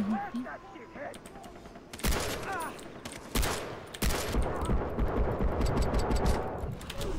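Gunfire in the video game Far Cry 3, with dense bursts of rapid shots and booming blasts, loud and close, erupting in waves after a quieter stretch, with a voice talking over it.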